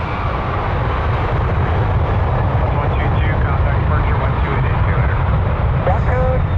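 A WestJet Boeing 737-800 at Toronto Pearson airport produces a steady, loud jet roar throughout, with a brief faint voice near the end.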